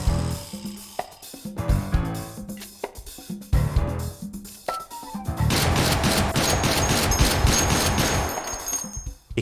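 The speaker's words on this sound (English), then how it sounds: "The All-Rounder is a semi-automatic rifle with a 10-round magazine." The All-Rounder, a semi-automatic rifle with a 10-round magazine in H3VR, fires a series of loud, sharp shots spaced irregularly, followed by a sustained barrage of rapid gunfire.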